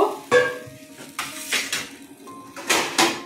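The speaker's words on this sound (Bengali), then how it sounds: "এখন আমি ঢেকে দেব।" A metal lid set onto a pot of simmering fish curry with potatoes, several sharp clanks and scrapes of metal on metal spaced over a few seconds, close and fairly loud over a soft background hiss.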